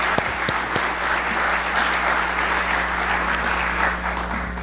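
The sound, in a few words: applause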